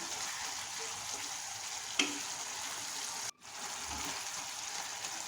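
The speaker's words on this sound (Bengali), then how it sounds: "বিচির সঙ্গে মাছটাকে কষিয়ে নিব কিছুক্ষণ রান্না করে" Fish frying with bean seeds in a pan gives a steady, fairly quiet broadband sizzle, with a brief clink around the two-second mark and a short drop out near three and a half seconds. The sizzle then resumes.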